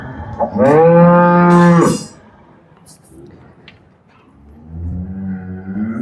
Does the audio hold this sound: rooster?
no